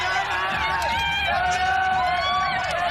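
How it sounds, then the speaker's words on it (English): Cal volleyball fans cheer for a side out at a Stanford versus Cal match, a steady crowd roar with overlapping voices and whoops throughout. "Cal fans here cheering for a side out, wondering what's going on over at the scores table"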